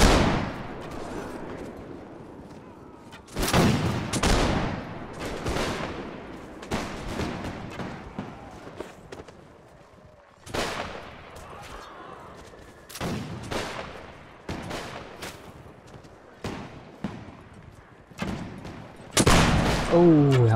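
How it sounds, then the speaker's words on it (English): Repeated volleys of musket gunfire crack out in a multiplayer battle game, with loud bursts and scattered shots at irregular intervals; some are close and sharp, others farther off, while players talk intermittently. "Thankfully we've got two guys shooting out of that window"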